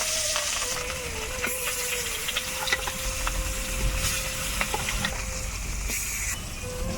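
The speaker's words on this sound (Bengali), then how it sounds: "এবার আমি মাছটাকে ভালোভাবে লাল লাল করে ভেজে নেব" Rohu fish pieces fry in hot oil in a wok, a steady close sizzle with occasional crackles and faint clatter, joined by a sustained mechanical whine in the background.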